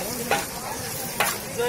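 Saç kavurma meat roasting in a pan with salt and pepper flakes, a steady close sizzle with two brief stirring scrapes.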